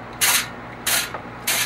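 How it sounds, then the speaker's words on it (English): Cooking spray hisses in three short bursts onto the basket of a Ninja Foodi XL Grill, each burst about a quarter second long, close and clear with brief quiet gaps between them. "I'm gonna spray this basket like I always do"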